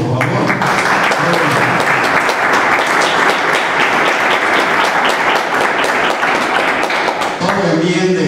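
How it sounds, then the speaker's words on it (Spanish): Loud, dense audience applause at a school closing ceremony in Puruándiro, Mexico, with sustained clapping from many people filling the whole span and a voice emerging near the end. "pido un aplauso para ellos, por favor."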